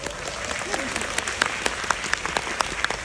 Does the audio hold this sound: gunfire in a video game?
no